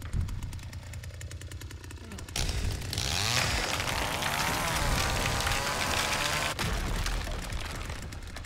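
A chainsaw engine in the Texas Chain Saw Massacre video game buzzes steadily and loudly, rising into a harsh high-revving whine for several seconds before dropping back to a rough idle.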